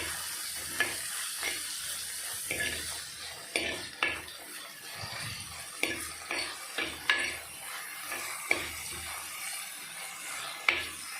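Chopped tomatoes sizzle with browned onions in a pan for Goan chicken xacuti curry, under repeated scraping and clinking as a utensil stirs them, close and fairly quiet.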